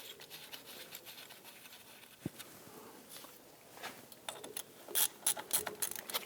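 A ratchet runs down a bracket bolt on a 2006-2010 Hummer H3 during front CV axle work, giving faint, uneven clicking and tool handling that sharpens into a few louder ratchet bursts near the end.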